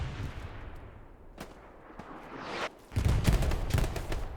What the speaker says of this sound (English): So Lucky's going to chuck a couple of nades out.